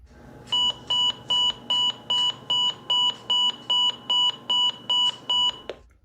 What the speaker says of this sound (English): that's the alert tone, or beep tone, I'd say, that the WR30 uses for weekly and monthly tests